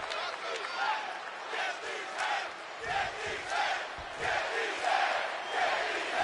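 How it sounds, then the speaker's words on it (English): Arena crowd in the wrestling video game WWE 2K22 chanting for Braun Strowman at a Friday Night SmackDown event, rhythmic massed voices rising and falling in steady repeated waves, moderately distant. "Listen to that crowd chanting for Braun Strowman."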